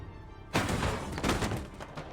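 Gunfire in a crime-thriller scene about a gun shop and a mafia showdown, a dense burst of loud shots and impacts erupting after half a second of quiet and rattling on continuously to the end.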